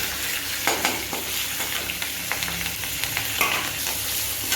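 Bay leaf, black cumin and three green chillies frying in a little oil for a pabda fish paturi dish, a dense steady hiss of sizzling oil with occasional light spatula taps, close and unbroken.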